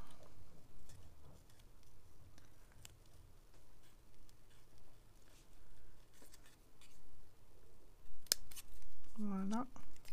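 Scissors snipping through paper cut from a catalogue for a card-making craft: quiet, close cuts scattered through the clip, with soft rustling and someone talking over it.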